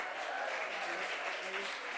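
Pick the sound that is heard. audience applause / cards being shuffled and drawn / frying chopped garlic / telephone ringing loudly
audience applause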